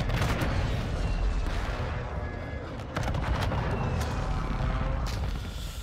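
Air strike in the Call of Duty DMZ video game: rapid bursts of gunfire and booming explosions crackle continuously and loudly, with several sharp impacts standing out over the dense battle noise.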